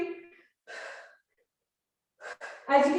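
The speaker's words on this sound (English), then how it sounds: "So we're really breathing out heavy." Heavy, forceful exhalations during an abdominal workout, several breathy bursts separated by short silences, close and fairly loud.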